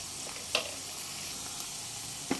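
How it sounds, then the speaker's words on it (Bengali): Onions frying in a pan with ginger-garlic paste over a medium flame, a soft steady sizzle broken by a couple of faint clinks of a spoon against the pan. "আদা রসুনের কাঁচা গন্ধটা চলে যাওয়া পর্যন্ত মিডিয়াম ফ্লেমে একটু ভেজে নিতে হবে"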